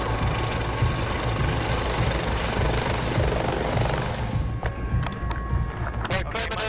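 Air ambulance helicopter during a patient transfer, its rotor and engine thrumming loud and steady up close, with brief clicks and knocks near the end.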